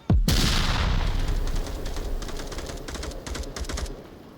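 A sharp shot opens a VR video game match, followed by a long run of rapid gunfire bursts that crackle at mid distance and thin out toward the end.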